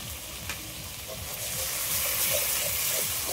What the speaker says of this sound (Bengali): সবগুলো একসাথে একটু ভালো করে কষিয়ে নেব।